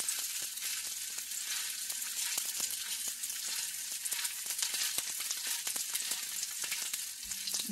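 Steady close sizzle of a mackerel fritter patty frying in a skillet over medium heat, a dense crackling hiss throughout with scattered sharper pops, no voices.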